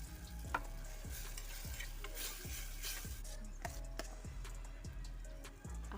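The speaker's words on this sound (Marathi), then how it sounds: "आलं लसूणची मिरचीची पेस्ट केली ना ती 2 चमचे घ्या, म्हणजे तिखट जसं लागेल त्याच्याप्रमाणे. हे घेऊन ते चांगले परतून घ्या." Ginger-garlic-green chili paste being sautéed for a cashew curry, quiet sizzling under a steady rhythm of spatula strokes scraping and tapping the pan about once a second, close and with no talking.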